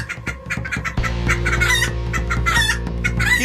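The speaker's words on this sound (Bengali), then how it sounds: "এদিকে বাকি মুরগিগুলো ভয়ে চিৎকার করে ওঠে" Cartoon farm chickens cluck and shriek in fright at night, a loud, close burst of overlapping squawks and cackles that rises and continues without pause.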